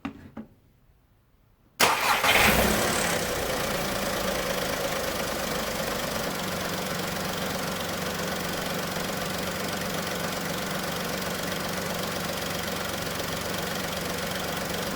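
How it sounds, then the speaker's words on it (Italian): A Seat Ibiza 6J petrol engine cranks and catches after a battery change, then settles into a steady, loud idle that runs unbroken to the end, close to the microphone with no talking. "ora andiamo a mettere in moto."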